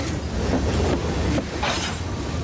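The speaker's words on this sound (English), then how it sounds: "You got to get here before the train comes through." A train runs close by on a busy rail line, one of many that pass through each day. It gives a loud, steady rumble with a rhythmic clatter of wheels on the rails.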